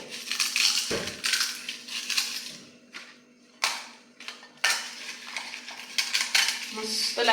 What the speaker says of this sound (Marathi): आता इथे मी एक एक पापड एका बाउलमध्ये असा चुरून घेत आहे